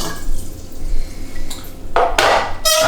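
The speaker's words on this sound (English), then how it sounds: "So that is now going to be chucked into the pinter." Sugar dissolved in liquid is poured into a Pinter home-brewing keg for elderflower cider, with light clinks and rushes of liquid that grow louder and splashier toward the end, preceded by quieter handling noise.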